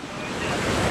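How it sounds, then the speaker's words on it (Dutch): Big ocean surf breaking on a beach near Barcelona, a dense, steady roar of crashing water that swells slightly louder toward the end, mixed with wind buffeting the microphone and no talking. "De golven zijn dik."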